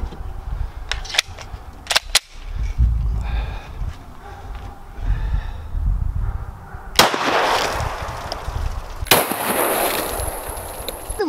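Two sharp 9mm pistol shots from a Sig Sauer firing V-Crown 124 grain ammunition into water jugs, sounding loud and close several seconds apart, with lighter clicks and handling noise before them.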